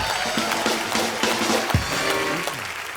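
A studio audience at a comedy talk show breaks into applause, a dense clatter of many hands with scattered whoops and a brief low thump, holding steady and fairly loud across the short stretch.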